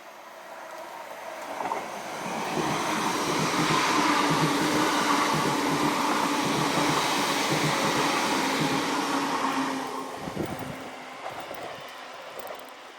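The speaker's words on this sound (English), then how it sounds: "A cyclist and a train." A train rushes past nearby on Millhall Road, Stirling, Scotland, a roaring wash of noise that swells over a few seconds, holds steady, then fades away.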